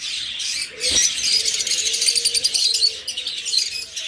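Red-eyed lutino Fischer's lovebirds chirp in a busy, overlapping stream of high, rapid tweets, loud and close, with one sharp click early on.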